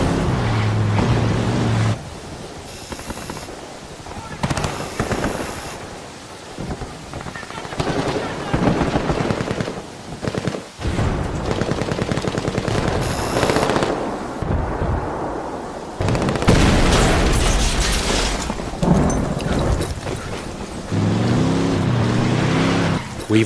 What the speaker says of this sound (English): to provide further disruption, we blow that C4 we placed earlier